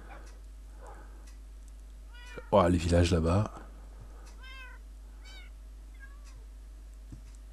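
Cats meowing in Minecraft: a burst of several close, loud meows clustered in about a second, followed by a few fainter mews, with someone talking nearby.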